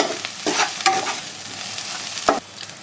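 Spices are stirred and mixed in a frying pan: a few distinct scraping strokes of the utensil over a soft, low sizzle, with no voices.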